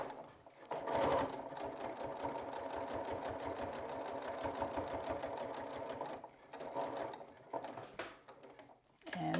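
A sewing machine stitches a seam about an eighth of an inch wide, running steadily and close for several seconds with a rapid mechanical chatter, briefly easing off before picking up again.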